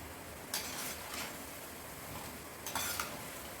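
Goli bajji fritters frying in hot oil, a faint steady crackling sizzle punctuated by a few short bursts of bubbling as batter drops in or is stirred; no voices.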